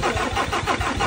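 A Ford Ranger engine with a recurring broken rocker arm cranks on a start attempt, a loud, steady run of rhythmic starter-driven pulses that does not catch, heard alone.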